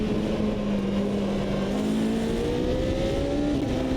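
Judd-engined LMP2 race car in the Automobilista 2 racing game, a steady high-pitched engine drone that climbs in pitch as it revs, continuous and loud with no talk.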